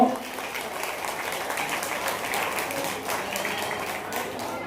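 Steady audience applause at a community association's Krishna Janmashtami gathering in Mumbai, many hands clapping in a continuous, moderately loud wash from start to finish.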